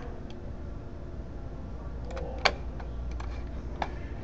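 Computer mouse clicks and a few keyboard taps while adjusting decals in a CubeeCraft sketch, sparse light ticks close by with one sharper click midway over a faint background hiss.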